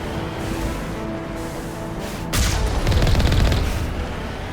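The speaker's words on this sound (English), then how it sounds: "Oh, we got a turret around the corner." Rapid turret gunfire in the sci-fi shooter game Mass Effect, a dense burst of repeated shots that starts abruptly midway, loud and close over a steady background hum.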